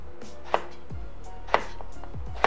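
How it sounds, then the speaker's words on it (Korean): Eggplant being cut into thick zigzag chunks on a board: three sharp, close knife chops spaced about a second apart, with faint handling noises between them. "이 가지는 자를 때 잘잘하게 자르면 안 되거든요"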